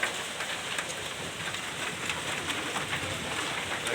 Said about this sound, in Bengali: দীর্ঘ 1 বছর পর বৃষ্টি।